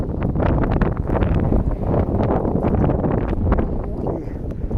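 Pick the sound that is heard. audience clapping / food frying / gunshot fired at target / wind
wind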